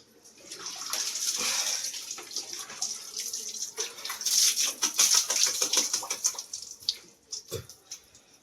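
Cold water gushes from a village tubewell, a loud continuous splashing rush that swells and fades unevenly as the flow hits the ground and a container, close by with no talk.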